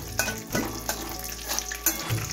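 Almonds and cashews sizzle in hot oil for Kashmiri pulao while being stirred, a continuous close frying hiss broken by scraping stirring strokes.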